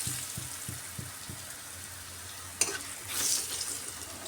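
Garlic fries in a little oil for a dried fish dish, a soft continuous sizzle with several quick stirring taps at the start and a single sharp clank of a utensil against the pan midway.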